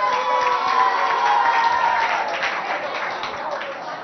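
An audience at a Chadian school competition applauds and cheers to welcome a student representing CEG Oscar Romero, a steady, dense wash of clapping with crowd voices that fades slightly toward the end.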